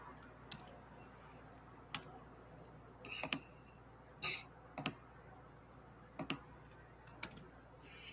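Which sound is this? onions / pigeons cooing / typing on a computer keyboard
typing on a computer keyboard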